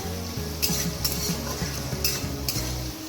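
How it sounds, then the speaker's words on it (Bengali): Ivy gourd sizzles steadily as it fries in a hot pan while a utensil scrapes and stirs in repeated strokes, close up. "এরপর কুঁদরি ভাজা পর্ব চলছে"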